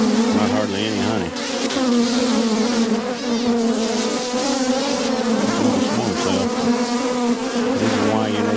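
Honey bees buzzing steadily and loudly around an open hive during an inspection late in the year, a dense continuous drone with no talk over it.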